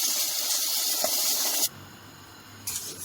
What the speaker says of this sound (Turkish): kavurmuş olduğumuz unumuzun içerisine soğuk sütümüzü ilave ediyoruz